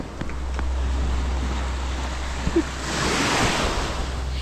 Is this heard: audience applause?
no